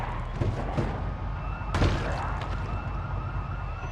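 A car alarm in the zombie survival game Project Zomboid wails with a steady repeating siren-like tone, loud and close, punctuated by sharp bursts near the start and midway.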